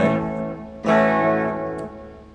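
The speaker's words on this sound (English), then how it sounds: "Tape echo, analog delay," Electric guitar through a Zoom R8 tape echo / analog delay effect: a sustained chord rings out, a second strum enters loudly, and repeating echoes trail off with no talk.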